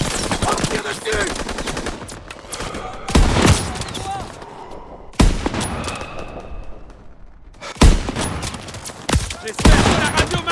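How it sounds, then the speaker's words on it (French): Gunfire in the World War II shooter Call of Duty WWII, with loud bursts of machine-gun fire and repeated shots in several volleys, plus shouted voices between them. "On tire dessus!"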